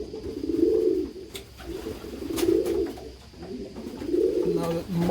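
Racing homer pigeons coo close by in three slow, rolling, throaty phrases, with a quiet voice and faint background noise between them.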